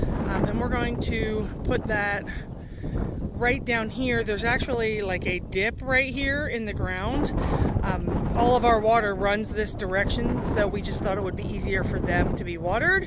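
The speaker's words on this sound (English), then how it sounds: "Sorry about the wind, y'all." Steady wind buffets the microphone outdoors at a garden plot being readied for an orchard, a constant low rumble under continuous close talking.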